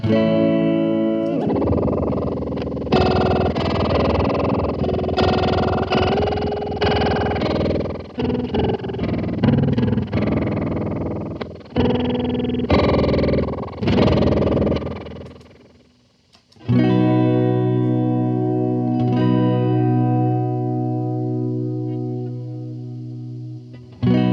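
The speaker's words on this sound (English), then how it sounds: "So this is just modulation on the reverb." A Death By Audio Rooms reverb pedal with modulation washes a series of distorted, sustained guitar chords in shimmering, wobbling reverb tails, then one long chord rings out and slowly fades, with no talking.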